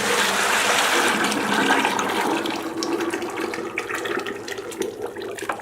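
A thick mud mixture gushes and pours into a container, loud at first and then thinning into gurgling splashes, with no voices.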